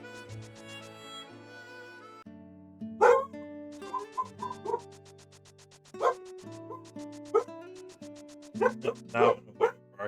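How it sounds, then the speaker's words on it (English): A dog barks in short, separate bursts as it runs around, the barks rising over a steady tonal background with no one speaking. "Now barking. There's a dog that's just running around."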